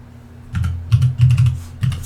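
Typing on a computer keyboard to search a game store while playing EverQuest, with short bursts of key clicks separated by brief pauses, close and fairly clear over a low steady hum.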